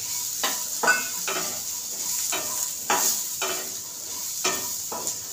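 Green peas sizzle in a pan of spice masala for matar pattice while being stirred, a steady frying hiss broken by several scraping stirs of the spoon, close and fairly loud, with no speech.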